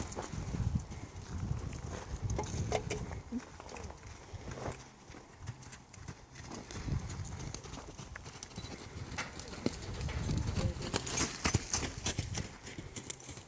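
Horse's hooves clip-clop steadily across a training arena as it moves through turns, an irregular, moderately close patter of hoofbeats over low rumbling ground noise.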